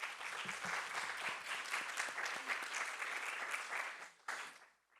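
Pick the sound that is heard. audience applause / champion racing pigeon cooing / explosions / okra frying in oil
audience applause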